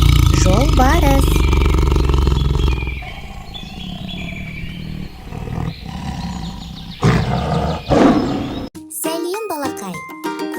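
Loud tiger roar up front, followed by quieter animal grunts, a voice, jingling and bright chirping sounds.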